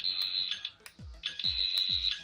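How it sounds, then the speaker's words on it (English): Two high electronic beeps from a Rubbertoe Replicas Fourteenth Doctor's sonic screwdriver replica toy activating, each lasting about half a second and separated by a short pause, with soft low clicks between them. "I do like that it has the activation, sort of that little beep there."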